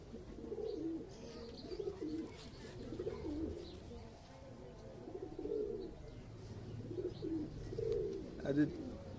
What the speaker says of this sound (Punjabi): ਪੁਰਾਣੀਆਂ ਨਸਲਾਂ ਦਾ ਕਬੂਤਰ ਹੈਗਾ ਹੈ